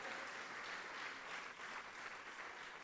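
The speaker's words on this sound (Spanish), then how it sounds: "Dele bien fuerte ese aplauso a ese Dios." Continuous applause from a congregation at a Spanish-language church service, a dense, steady patter of many hands clapping at low volume with slight swells.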